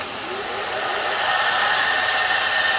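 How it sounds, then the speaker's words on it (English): A grinder works a metal knife guard with a steady, loud, broadband whirring roar that holds even throughout, with no speech. "Since I have a lot of grinding to do"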